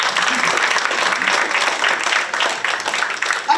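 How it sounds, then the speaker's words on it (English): Audience applause for a dance school on a Haitian TV talk show, a steady dense wash of clapping from a crowd held at even loudness throughout. "So I want you to give a big applause to them again."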